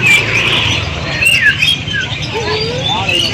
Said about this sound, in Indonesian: ini suasana di dalam Pasar Burung Sukahaji, Bandung, Jawa Barat jam 10 pagi